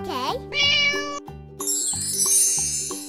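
Cartoonish cat meow in an animal slide video game, sounding in short tonal bursts over a bright jingling musical backing, loud and close.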